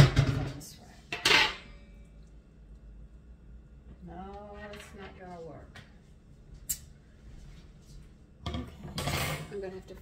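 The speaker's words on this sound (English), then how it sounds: "So let me get my frying pan out." Pots and pans clatter and clank as a frying pan is pulled out in a home kitchen, with sharp metallic bursts at the start and again near the end and a voice talking in between.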